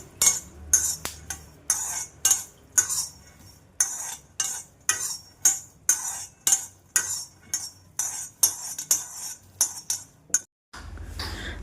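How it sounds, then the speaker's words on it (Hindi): Peanuts are dry roasted in a pan, tossed and rattled in regular bursts roughly every half second, a bright repeating clatter that stops abruptly near the end. "मूंगफली यहाँ पर मैं ड्राई रोस्ट कर रही हूँ।"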